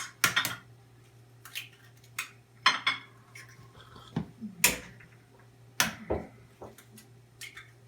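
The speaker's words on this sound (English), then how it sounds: "in a shallow bowl with sides, I'm going to crack 2 eggs" Two eggs cracked into a shallow glass bowl with sides, a series of sharp taps and clinks spaced across several seconds over a steady low kitchen hum, with no talking.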